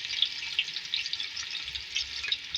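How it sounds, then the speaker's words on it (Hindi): Four medium onions frying in hot ghee in a pan for Hyderabadi aloo tahari, giving a steady close sizzle with small pops and crackles throughout, no voices. "इसमें ऐड करेंगे 4 मीडियम साइज की प्याज, फ्राई करेंगे।"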